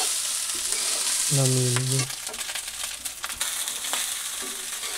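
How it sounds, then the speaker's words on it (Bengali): Cooked rice stir-fried in a pan, with a loud continuous sizzle and scraping stirs, a brief tonal clang near the start and a few words spoken over it. "এই যে ভাতটা দিয়ে দিলাম, আর ভালো মতো একটু নাড়াচাড়া করিয়ে"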